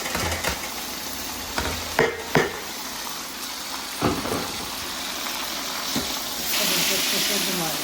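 Chopped tomatoes frying in a pan with roasted spices, a steady hiss and sizzle broken by a few clattering stirs, getting louder near the end.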